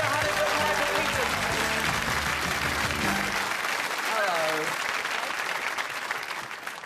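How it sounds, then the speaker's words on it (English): Studio audience applause on a 1995 Saturday-night British TV game show, a broad steady roar of clapping that fills the clip with some voices and music mixed underneath, tailing off slightly at the end. "Give a nice round of applause there."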